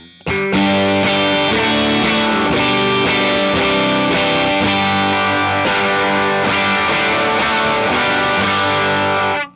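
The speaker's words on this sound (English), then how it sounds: "To moderate distortion, so turn the gain up and the level down a bit." An electric guitar played through a Vincent channel-switching amp set to moderate distortion. Loud, sustained strummed chords ring on with a thick, gritty overdriven tone.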